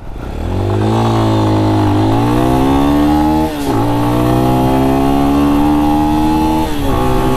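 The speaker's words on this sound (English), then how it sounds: "You could pretty much full throttle it and pop the clutch and it'll spin out like what I just did back there." A Lifan X-Pect 200cc enduro motorcycle engine revs hard at full throttle, close and loud, its pitch climbing through gear-like steps with a brief dip midway, single-cylinder drone sustained throughout with no talk.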